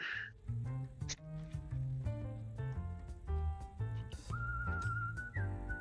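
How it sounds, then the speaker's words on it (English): A shrill, steady whistle from the Space Engineers video game rises out of layered, tonal game sound in the second half and holds for over a second near the end. "that's whistling"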